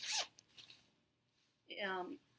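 A small zipper on a mini pouch is pulled quickly, a short rasping zip at the start and another longer one near the end, close and crisp.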